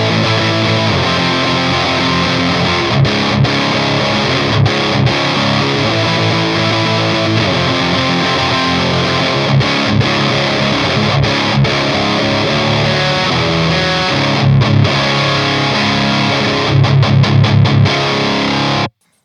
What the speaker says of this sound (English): So that's a really wide range of distortion.